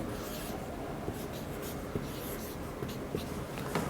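Chalk or a marker scratches numbers onto a board during a maths lesson on real numbers. The strokes are short, faint and intermittent over a quiet room hum, with no speech.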